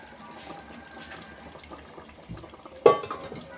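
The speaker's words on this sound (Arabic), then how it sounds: "هحط لها شويه ميه الاول" Water is poured into a cooking pot of cut-up chicken pieces, a brief splashing pour near the end after quiet kitchen clatter.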